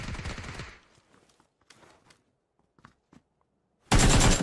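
Gunfire in a first-person shooter match, with a dense burst of rapid shots at the start and another loud sustained burst at the end, separated by quieter scattered clicks and footstep-like taps.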